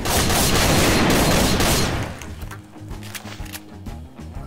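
Automatic gunfire in Garry's Mod rattles loud and dense for about two seconds, then stops abruptly, leaving game sounds with a few faint pops.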